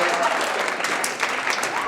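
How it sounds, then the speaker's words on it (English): A campus audience claps for the Student Government Association at a speaking event, a brief, steady burst of applause with a voice faintly present beneath it. "To the Student Government Association, let's give them a big round of applause for helping to organize this."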